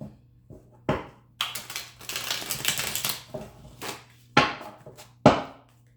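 Tarot cards are shuffled by hand in a series of crisp riffling and tapping bursts, with a dense flurry in the middle and a few sharp isolated slaps toward the end, close and fairly loud in a quiet room.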